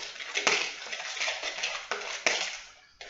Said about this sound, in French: Je mélange tout. L'œuf avec la banane, avec le yaourt.